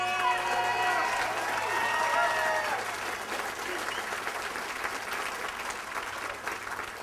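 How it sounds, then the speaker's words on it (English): A political rally crowd at a Gathering of the Eagles event breaks into sustained applause, a dense wash of clapping that holds steady and then eases slightly, with some cheering mixed in. "Give yourselves a rounding applause."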